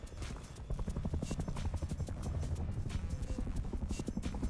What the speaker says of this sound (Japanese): で、またヘリ戻ってきましたね。